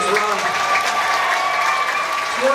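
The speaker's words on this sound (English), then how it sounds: "Ladies and gentlemen, give him a big round of applause as he's making his run." Crowd applause fills the stands at a Versus Monster Trucks show in Plattsburgh, New York, a steady wash of clapping and cheering held level throughout, with an announcer's amplified voice layered over it.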